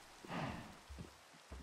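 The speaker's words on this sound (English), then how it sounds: "Oh no, it's starting to rain." Soft, steady patter of rain starting to fall in Minecraft, a faint hiss throughout with a brief swell near the start and no voices.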